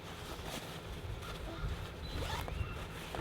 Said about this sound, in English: All right, we'll go ahead and zip that up.